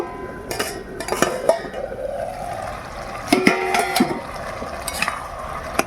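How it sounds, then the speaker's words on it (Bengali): A metal lid comes off a pot of tender bottle gourd and native shrimp curry simmering over a wood fire, with several close clanks and scrapes over a steady low sizzle. "এবার ঢাকাটা খুলে দেখে নেব"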